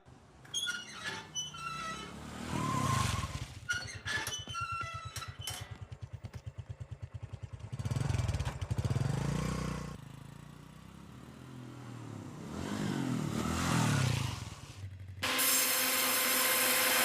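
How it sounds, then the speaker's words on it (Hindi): A vehicle engine rumbles and revs in several swelling bursts as it pulls away, fairly loud against a quiet background, with a short bright burst of noise at the end. "ए गाड़ी चला।"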